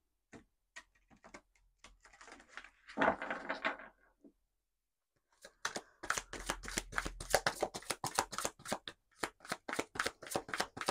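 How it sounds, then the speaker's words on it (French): Oracle cards from the Divin Ange deck being handled and shuffled: scattered soft taps and card slides at first, then a quick, steady riffle of close, crisp card flicks, quiet and without speech. "On va prendre une ou deux cartes de l'oracle Divin Ange."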